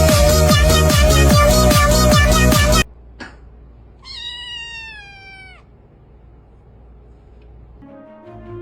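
A cat gives a single clear, drawn-out meow in a quiet room after loud music cuts off, with faint rustling following.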